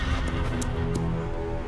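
A horse in a cartoon neighs loudly and close: one brief whinny heard alone, with no talk over it.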